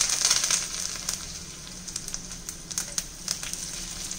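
Curry leaves drop into hot oil for a dal tadka already tempered with cumin and asafoetida. A loud crackling burst at the start settles into scattered pops and a fainter steady sizzle.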